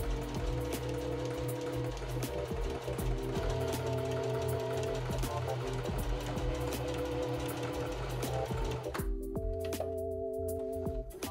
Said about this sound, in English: let's go ahead, get the last bit of sewing done, and finally finish our bodysuit.